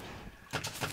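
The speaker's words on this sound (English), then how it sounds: "That fires really quickly though. And it explodes." Needler weapon in the game Terraria firing and exploding: a quiet lull, then a pair of sharp, loud blasts in quick succession with bursts of noisy crackle.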